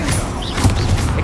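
Bombarda explosion spells from Hogwarts Legacy burst in a dense, continuous wash of booming crashes and thuds, with heavier impacts landing around the middle of the stretch.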